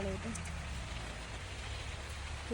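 Steady rain patters on surfaces at a strawberry farm in Vattavada, Kerala, in a continuous soft hiss, with a few faint voice fragments at the edges.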